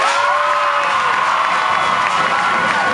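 A large crowd of high school students at a senior pep rally cheers and whoops loudly and continuously, a dense wall of shouting voices with some applause mixed in.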